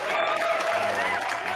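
Live studio audience at a game show stream applauding a contestant, a continuous, moderately loud patter of clapping with a few faint crowd murmurs and a voice briefly underneath.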